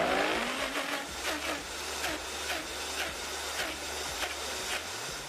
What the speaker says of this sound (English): We're going to blend.